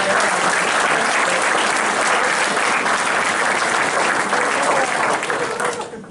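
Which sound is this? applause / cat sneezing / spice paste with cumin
applause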